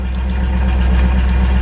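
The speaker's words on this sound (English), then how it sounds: "I was gonna let y'all see his car. It sounds so nice." A car engine idles steadily close by, a low, even rumble with a faint regular pulse holding at constant loudness throughout the short stretch, with no voices.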